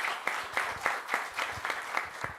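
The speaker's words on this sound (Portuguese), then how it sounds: "E peço uma salva de palmas por isso." A small audience at a book talk in Paracatu gives a short round of applause, brisk overlapping claps with a slightly pulsing rhythm, close and moderately loud.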